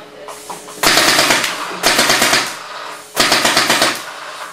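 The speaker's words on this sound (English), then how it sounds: "And we're about to fire up." A paintball gun turret fires three loud, rapid machine-gun-like bursts, each lasting about a second with short pauses between, close and dominant with no talk.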